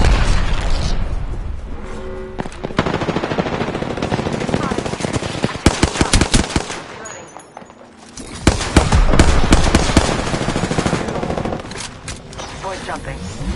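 Dense automatic gunfire in the Apex Legends video game, long rattling bursts with heavy booms from a grenade blast, loud and sustained, briefly easing before another intense volley, with voices calling out over the combat.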